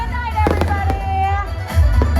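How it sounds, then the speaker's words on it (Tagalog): Fireworks at a Filipino-Chinese cultural festival in Malabon pop and crackle in several loud bursts over a deep booming rumble, with a voice talking underneath the blasts. "Nagtapos ang selebrasyon sa isang makulay at engranding fireworks display."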